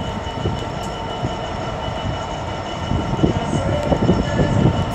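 An Avanti West Coast Class 390 Pendolino, unit 390129, pulls into Rugby station on the West Coast Main Line. A loud, steady rumble of wheels and traction carries a faint high whine, growing slightly louder at the end, with no voices.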